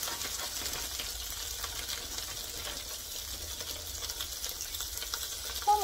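Branzino, a white fish, fries skin-side down in a pan with butter, giving a steady, close, even sizzle that holds without a break.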